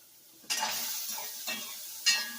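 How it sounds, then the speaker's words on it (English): Raw shrimp sizzle steadily in a hot pan, with three distinct scraping stirs on the pan at a regular pace, close and fairly quiet, with no talking. "I have raw shrimps here, so I'm gonna start by adding that in there. And let's stir"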